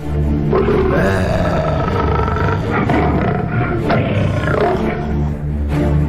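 A tiger in a children's story growls angrily in loud, sustained, rough roars that rise and fall over several seconds with no talking.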